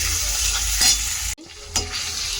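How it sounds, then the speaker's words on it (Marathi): Onion sizzles in a hot pan with ginger, garlic, chili and tomato while being stirred for egg bhurji, a loud continuous fry with scraping stir strokes and a brief break midway. "कांदा परतून घ्यावा चांगला परतून"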